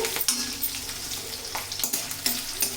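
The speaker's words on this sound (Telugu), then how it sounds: "ఇప్పుడు గార్లిక్ అలా సాట్ అయ్యేటప్పుడు" Garlic frying in hot oil gives a soft continuous sizzle, broken by light stirring clicks and scrapes from a utensil in the pan.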